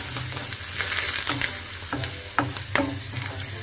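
Onions, green chilies and curry leaves crackle and sizzle with mustard seeds in hot oil for an Andhra-style okra fry, a steady fry noise broken by several sharp clinks and scrapes of a stirring spoon.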